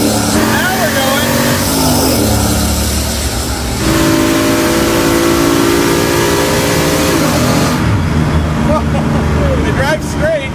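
A 600-plus horsepower LS-engined car accelerating at a drag race, with a loud, sustained engine roar rising through gears under loud talk.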